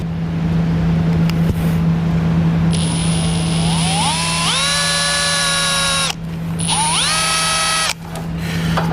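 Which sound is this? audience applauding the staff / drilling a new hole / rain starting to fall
drilling a new hole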